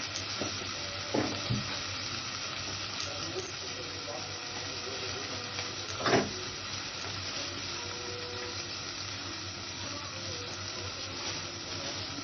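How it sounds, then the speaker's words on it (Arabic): Two cloves of minced garlic frying in a pan, a steady close sizzle broken by a few louder scrapes of stirring. "فصين توم مفرومين بروح حطاهم وهروح مقلباهم تقلبتين يا دوبك"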